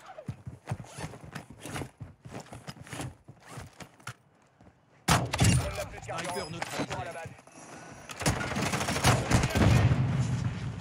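Sharp bursts of gunshots from the Warzone shooter game crack out in quick irregular volleys, with heavier, denser firing and action noise later, while players talk over it.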